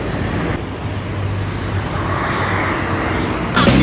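Steady, loud road traffic on the B2 bypass road, a continuous rumble of cars and motor vehicles passing close by, with a brief louder surge near the end.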